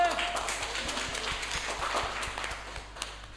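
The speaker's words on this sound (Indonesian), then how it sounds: "tepuk tangan dulu dong buat Rehan" An audience applauds for comedian Rehan at a stand-up comedy show, giving sustained, moderately loud clapping with a steady rhythmic tapping, heard under a speaking voice.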